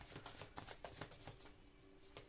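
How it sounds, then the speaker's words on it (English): A deck of tarot cards shuffled close by, a quick series of soft riffling flicks and taps over about two seconds, quiet and without speech. "So let us just shuffle here quickly."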